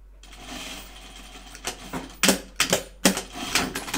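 A sewing machine stitches a seam on a Tibetan chupa garment, running in several short bursts of rapid mechanical clatter separated by brief pauses, close and fairly loud with no talk.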